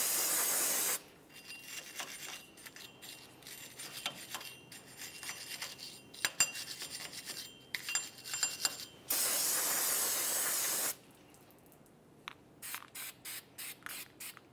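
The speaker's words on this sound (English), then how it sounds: "Go ahead and use a wire brush and some parts cleaner." Parts cleaner sprayed from an aerosol can onto the brake rotor and wheel bearing hub of a 2002-2009 Chevrolet Trailblazer, heard as long steady loud hissing bursts with scrubbing between them and short rapid spurts at the end.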